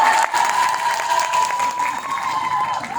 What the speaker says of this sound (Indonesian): Kalau tepuk tangannya lebih banyak saya akan teruskan.